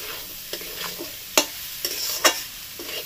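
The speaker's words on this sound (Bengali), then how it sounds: "ভালো করে এটা মিশিয়ে নেব।" Mixed fried rice is stirred and tossed in a pan over a soft background sizzle, with several sharp spatula scrapes and clacks at irregular intervals, close by and without talk.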